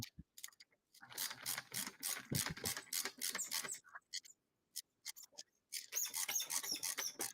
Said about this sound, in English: I use a ratchet screwdriver.